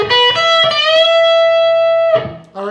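Next phrase of a distorted electric guitar lead on the middle pickup: a few quick picked notes, then one long sustained bent note ringing out before fresh attacks, loud and close.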